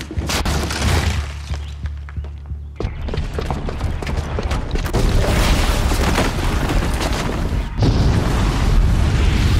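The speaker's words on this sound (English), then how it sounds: "the booby trap on the bomb downstairs is gonna get set off" A bomb blast in Horizon Zero Dawn sets off a loud, sustained roar of booming and crashing debris that rolls on for the whole stretch, with a fresh heavy surge near the end.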